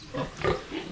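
Pigs grunting on a farm: a few short, low grunts in quick succession, close by and moderately loud, with no talk over them.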